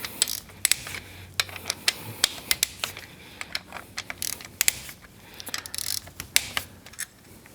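A hand ratchet clicks in quick, irregular bursts while loosening holder bolts on a Honda Goldwing GL1800 motorcycle engine during a valve adjustment, the sharp ticks close and loud with short pauses between turns.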